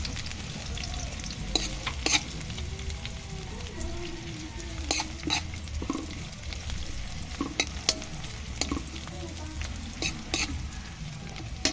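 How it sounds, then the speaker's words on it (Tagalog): Squash and string beans sautéing with anchovies in a pan, a soft continuous sizzle with frequent scraping stirs and clinks of a utensil, fairly quiet and close. "Ginisa muna natin dito siya mga kahabi. Kasama yung dilis."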